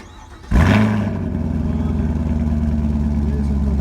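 A 2017 Chevrolet Camaro SS V8 fires up with a sharp burst, then settles into a deep, steady, loud idle rumble from the exhaust, heard up close.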